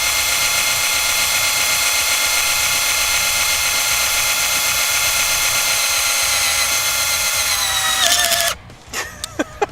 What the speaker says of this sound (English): I'm just gonna drill through the other side to see if I can just go all the way through the head of the light